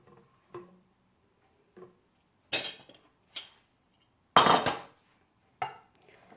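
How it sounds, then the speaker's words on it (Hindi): Kiwi fruit being peeled and sliced with a knife for a healthy drink: a handful of separate sharp knife-on-board taps and scraping cuts, spaced irregularly, close and fairly quiet, with no talking. "तो कीवी को इस तरह से छील कर तो काट लेते हैं"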